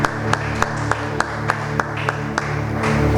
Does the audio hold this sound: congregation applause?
yes